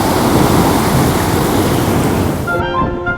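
Ocean waves and wind outside the Golden Gate off Northern California make a loud, rushing roar that fills most of the stretch, then give way at the end to a faint tonal sound.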